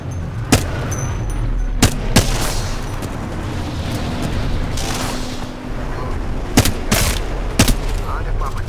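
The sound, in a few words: gunfire from a video game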